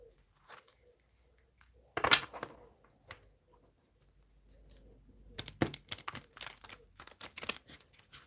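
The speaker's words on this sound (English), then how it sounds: "let's shuffle the cards." Tarot cards being shuffled make soft, scattered riffles and flicks, with a stronger burst early on and a quick run of crisp card snaps near the end.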